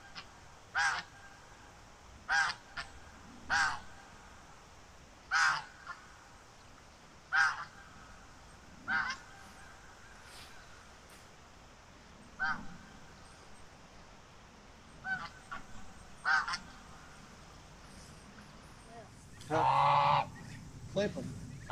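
Geese on a farm honk in separate loud calls spaced a second or two apart, close by, with a longer cluster of honks near the end over quiet outdoor background.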